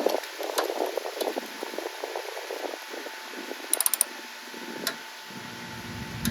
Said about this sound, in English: I need a new ratchet. This ratchet sucks.